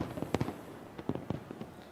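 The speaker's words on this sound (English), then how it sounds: "This is a great fireworks show." New Year's Eve fireworks burst in a rapid, irregular series of sharp pops and crackles, heard from a distance and fairly faint against a steady background of crowd and city noise.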